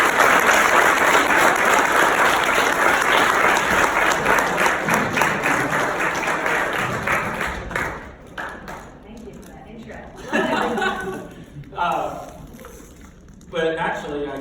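Audience applause welcoming a speaker, a dense steady clapping from a crowd that fades after several seconds, followed by a voice starting to talk.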